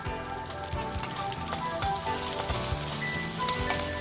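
Curry leaves, chopped cauliflower, green chili and chopped red chilies fry in a pan, a dense steady sizzle with scattered crackles and pops throughout, close and without speech.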